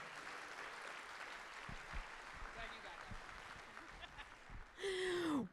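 Scattered applause from a gathered crowd for medal winners at a miniature painting competition awards ceremony, soft and distant at first, then swelling into louder clapping near the end.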